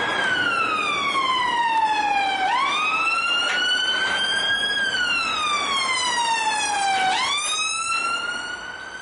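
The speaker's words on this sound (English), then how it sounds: "Police car." A police siren wails loudly and continuously, its pitch sweeping slowly up and down in long cycles, with no voices.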